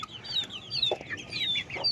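Newly hatched chicks from an incubator, including a red one and a golden farm breed, chirp in quick high-pitched peeps close by, several overlapping calls repeating across a couple of seconds.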